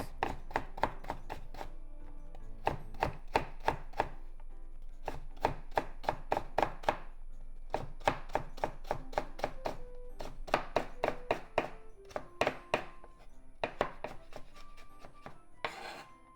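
A knife chops ingredients into strips on a cutting board, rapid runs of crisp, evenly spaced taps in several bursts with short pauses, close and clear with no talking, for a shrimp yakisoba stir-fry.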